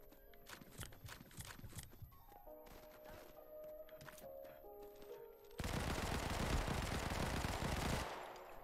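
Shooting in the mobile shooter Modern Combat 5 battle royale: scattered shots and bursts at first, then a loud sustained roar of heavy gunfire near the end, with no voices.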